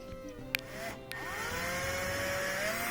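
A power screwdriver whirs steadily while removing Phillips head screws from a gas dryer, with a couple of faint metallic clicks before the motor settles into a continuous whine.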